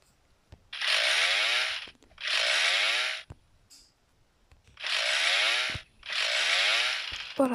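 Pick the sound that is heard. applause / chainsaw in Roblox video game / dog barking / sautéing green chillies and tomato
chainsaw in Roblox video game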